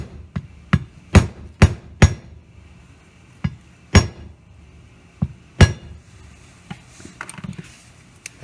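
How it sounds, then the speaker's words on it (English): A rubber mallet strikes a socket to seat a caliper slide pin boot, giving about a dozen sharp, close knocks at uneven intervals, several loud and some lighter, with no talk. "grab a rubber mallet, and give it a swat, dead center"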